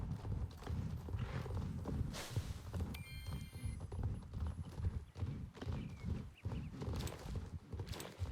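Horse hooves clip-clop steadily in Star Stable Online, a horse-riding video game, with a brief neigh and a high chime partway through, loud and continuous throughout.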